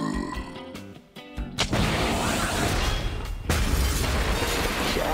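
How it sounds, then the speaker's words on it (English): Cartoon Road Rover missile launcher firing: a sharp burst and boom, then a loud sustained roaring blast with crackling debris that keeps going to the end, a second surge partway through. "you need our brand new Road Rover missile launcher"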